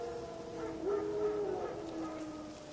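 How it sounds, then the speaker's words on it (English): Wild dogs howling in the game The Witcher 3, a faint, distant wavering howl that rises and slides in pitch over a low background hum. "Wild dogs. Yes. More dangerous than wolves."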